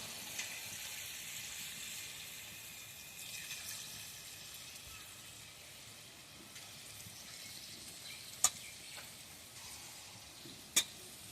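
Palm fruit fritters (taler bora) frying in oil, a soft steady sizzle running throughout at low level, with a couple of sharp brief pops near the end.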